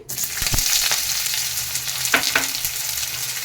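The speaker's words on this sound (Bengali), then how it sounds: "কড়াইতে দিয়ে দেবো সরষের তেল তেল গরম হয়ে গেছে এবার দিয়ে দেবো পেঁয়াজ কুচি" Chopped onion sizzles steadily in hot mustard oil in a kadai, a close, dense crackle with a few stirring scrapes and soft knocks, no talking.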